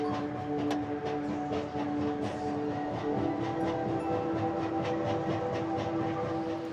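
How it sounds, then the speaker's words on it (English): The Hungerburgbahn funicular railway car in Innsbruck runs steadily, giving a continuous rumble with tonal hum and faint rhythmic clicks, close and moderately loud throughout with no voices. "the Hungerburgbahn funicular railway in Innsbruck"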